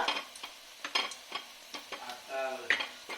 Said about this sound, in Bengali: আর এক প্যাকেট ভেজে দিচ্ছি